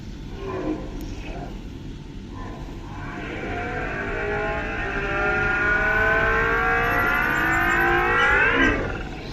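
An OLA S1 Pro Gen 2 electric scooter plays a synthetic mode sound, a loud rising whine with layered tones that swells and sweeps upward for several seconds before cutting off.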